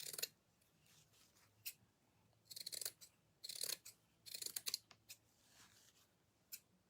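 Scissors snipping through burlap fabric in irregular clusters of crisp cuts, close and fairly quiet, with short pauses between bursts and no talking.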